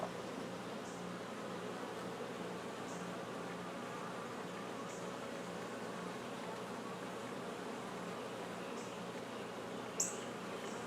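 Honey bees hum steadily around an open hive as it is inspected, a dense, even buzz filling the whole stretch, with a few faint sharper ticks and one brief louder tap near the end; no voices.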